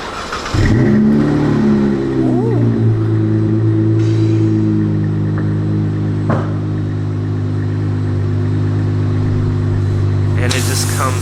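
A 2012 Dodge Charger engine cranks and fires up with a loud roar, then settles into a steady, deep, close idle with a few brief background noises, and voices are heard near the end.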